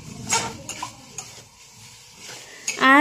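Chicken stir-fried in a little oil in a pan, with scraping utensil strokes, clinks and a soft sizzle, close by, ending in a louder sharp hiss.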